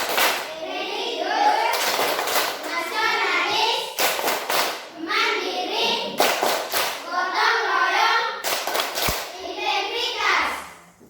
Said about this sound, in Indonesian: sekarang kita tepuk PPK ya